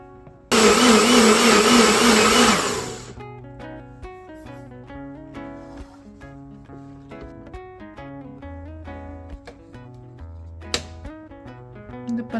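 Kitchen mixer grinder blending mango burfi mixture, a loud, harsh whirring burst of about two and a half seconds, then quieter background music continuing.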